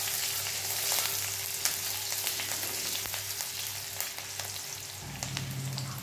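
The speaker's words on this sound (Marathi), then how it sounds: "आता यामध्ये भरपूर अशी हिरवी मिरची घालायची आहे आणि व्यवस्थित अशी परतून घ्यायची आहे" Green chillies sizzle and fry steadily in a hot pan on a full gas flame, a continuous close crackle with a low hum and occasional clicks of stirring, no voices.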